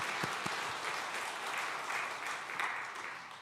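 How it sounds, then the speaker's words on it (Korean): A church congregation claps together at a Sunday worship service, a dense wash of many hands filling the room, with a few louder individual claps near the start. "박수를 좀 하면 좋겠죠."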